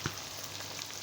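Okra and sliced onions frying in a pan, a close, continuous crackling sizzle with a faint hum underneath.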